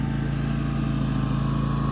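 A Grasshopper 226V mower runs steadily while cutting grass, its engine giving a close, continuous buzzing drone with a fast, even pulse and no pauses.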